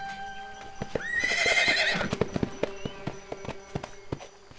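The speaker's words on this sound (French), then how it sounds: "Elle n'arrête pas de galoper et de hennir." A cartoon horse lets out one loud, high neigh, followed by quick rhythmic galloping hoofbeats that continue and fade slightly, heard close with no talking.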